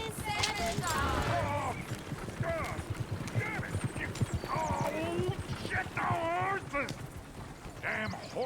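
Horse hooves in Red Dead Redemption 2 clip-clop steadily with occasional whinnies, under frequent overlapping voices talking nearby.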